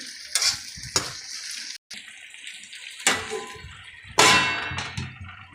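Okra and onion cooking in a pan, stirred a couple of times: loud clanging scrapes of a utensil against the pan come in bursts over a hissing background, with a brief gap of silence.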